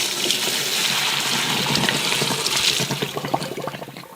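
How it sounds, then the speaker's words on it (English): Pasta water from a pot of cooked spaghetti is poured off into a container: a steady, close splashing pour that runs for several seconds, then thins and breaks up toward the end, with no talking. "before I drain the spaghetti, I need to reserve some of the pasta water."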